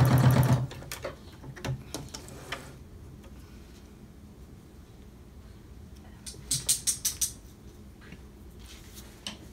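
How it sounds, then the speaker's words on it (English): Sewing machine back stitching the edges of a cloth mask, short bursts of rapid ticking stitches separated by quiet pauses, close and fairly soft. "You're going to want to back stitch to make sure that you have a nice secure stitch there on the edges."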